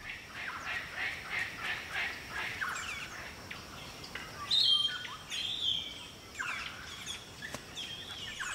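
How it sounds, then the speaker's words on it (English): Wild birds calling at fruiting trees in Australia, among them palm cockatoos: repeated chirps and squawks of varying pitch overlap in a busy, moderately distant chorus with no talk. "The local birds gather at trees that are fruiting."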